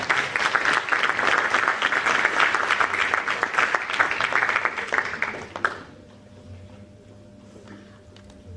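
Dense, steady applause from a conference audience fills most of the stretch, then stops abruptly and leaves quiet room tone.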